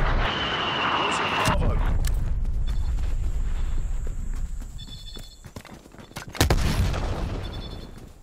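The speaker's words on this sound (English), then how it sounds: "Artillery inbound." Artillery strike explosions rumble through a Black Ops Cold War match, with heavy low booms and a sharp blast near the end, mixed with other game sounds and clattering footsteps; people talk over parts of it.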